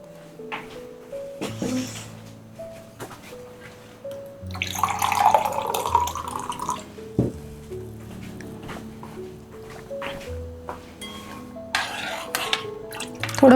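Water is poured into a salted rice flour mixture for tandalachi ukad, making a soft splashing burst in the middle, with light kitchen clinks and faint background music throughout.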